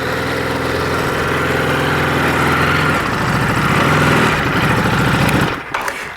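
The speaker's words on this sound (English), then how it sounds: "Once you put your ramp in place, you just power the bike up the ramp and strap it down." A motorcycle engine runs steadily and loudly as the bike is powered up a ramp onto a hitch-mounted carrier, its low rumble shifting in tone partway through before cutting off near the end.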